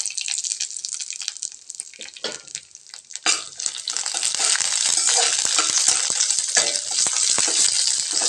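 Curry leaves hit hot oil in a pan for coconut rice, bursting into loud crackling sizzle after a few scattered pops and continuing steadily, close up.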